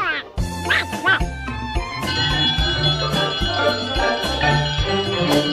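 A Donald Duck toy gives several nasal quacks at the start, followed by a bright, bouncy tune with bell-like tones playing loudly and continuously.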